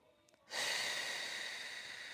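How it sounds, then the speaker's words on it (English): One deep, audible breath taken during a core workout class, a soft airy inhale-exhale rising suddenly after a brief quiet and then held steady, close to the mic. "One more breath here."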